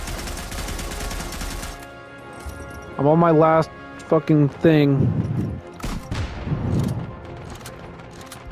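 A World War I Maxim machine gun fires in the video game Isonzo: a dense, rapid rattle of automatic fire at the start, then a few scattered bursts while someone talks over the action.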